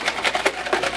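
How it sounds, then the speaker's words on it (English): A closed plastic shaker bottle holding a protein drink is shaken hard, giving about five quick, even sloshing bursts in a fast rhythm, close and fairly loud. "Shake it up."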